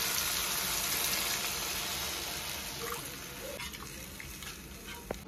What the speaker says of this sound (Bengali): এবার ঝোলের জন্য প্রয়োজন মতন জল দিয়ে দেবো।